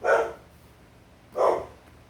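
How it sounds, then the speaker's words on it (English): A dog barks twice, about a second apart, each bark loud and close with a short harsh burst and nothing else around it. "because my dog is barking"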